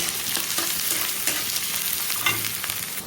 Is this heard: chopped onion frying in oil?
yes